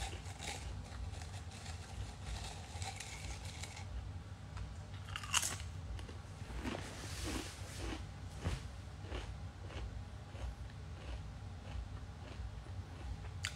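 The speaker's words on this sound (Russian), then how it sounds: "Вы слышите, как я жую или нет?" Crunchy potato chips being chewed close up, with a run of crisp bites and crunches that are soft and intermittent over a low, steady background hum.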